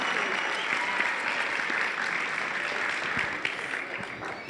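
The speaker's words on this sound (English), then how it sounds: "let's give them a really strong round of applause" Audience applause at a high school story slam event, a dense, sustained round of clapping from a large crowd, steady throughout and slightly easing toward the end.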